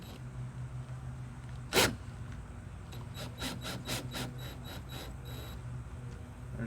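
Stainless steel screws are driven into an Ascend 12T kayak to fit an anchor trolley, with a faint scrape followed by a run of quiet, rhythmic rasping turns.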